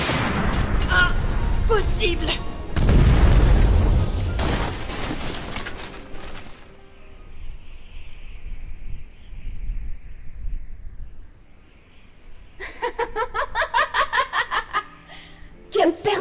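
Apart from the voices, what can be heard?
chaos explosion attack sound effect in an Undertale fan film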